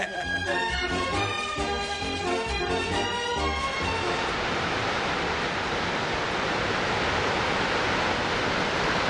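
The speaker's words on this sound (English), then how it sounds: "the majestic sounds of Niagara Falls" Niagara Falls thundering as a dense, steady roar of falling water, loud and close, with a musical passage fading out over the first few seconds.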